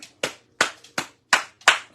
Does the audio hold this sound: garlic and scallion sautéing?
no